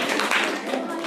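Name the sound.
audience clapping at a school event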